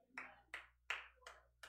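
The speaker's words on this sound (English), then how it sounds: "I got one lonely hand clap." A lone person clapping during a church sermon: five sharp, separate hand claps spaced evenly over a quiet background, close and fairly faint.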